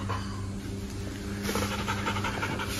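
A golden retriever pants steadily and close by in hot weather, with a continuous breathy rhythm and a faint whimper, with no voices.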